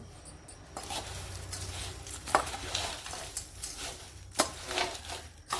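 Papad chaat being tossed together with peanuts and fine sev in a bowl, giving soft close stirring and rustling with scattered crisp clicks and crunches, no talking.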